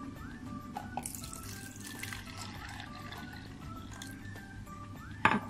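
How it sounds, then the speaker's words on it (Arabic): Milk being poured into a cup in a kitchen, a soft liquid trickle with a few light clinks and a short louder knock at the end. "نحط فيها كوبايه حليب"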